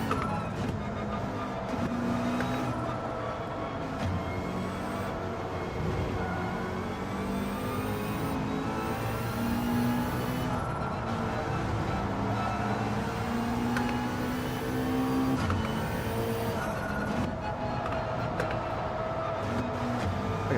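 A GR4 race car engine in Gran Turismo 7 at the Autopolis circuit, a sustained buzzing whine that rises and falls in pitch through gear changes, with other cars faintly nearby and no talking.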